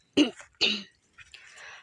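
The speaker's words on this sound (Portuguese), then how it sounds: "Acho que por conta da frieza, eu fico com um pigarro na garganta." A person clears their throat twice in short, rough bursts, followed by a softer raspy exhale, close up.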